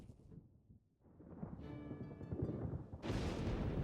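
Thunder in the video game Pokemon Pokopia on Nintendo Switch 2 starts as a faint low rumble, then swells into a rolling boom that grows steadily louder and stays heavy and crackling to the end.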